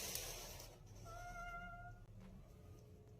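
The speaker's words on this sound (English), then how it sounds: "hearing what sounds like a cat meowing at their front door" A faint, drawn-out meow sounds once against a quiet background hum, thin and somewhat distant.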